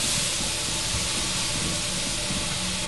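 Steam valve in the horror co-op game Lethal Company releasing a steady, even hiss that fills the whole stretch at moderate level, with a small clunk at the very end.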